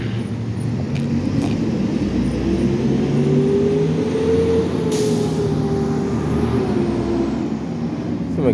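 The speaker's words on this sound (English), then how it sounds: "every so often you get a small wave of traffic that kind of goes through" Steady loud road traffic streams past as cars accelerate around a dump truck, with a brief sharp hiss of an air brake partway through and a continuous low engine rumble throughout.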